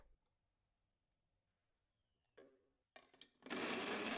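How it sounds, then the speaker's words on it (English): A blender starts up on pork loin chunks with garlic and shallot, giving a few short whirring pulses before settling into a loud, steady grinding roar, alone with no talking. "Blend them with the meat."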